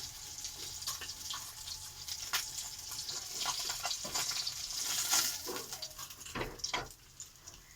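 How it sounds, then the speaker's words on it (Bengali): Steady crackling sizzle of fish frying in hot oil, with occasional stirring scrapes and clinks, close up and continuous. "এক এক করে আমি সব মাছ ভাজবো।"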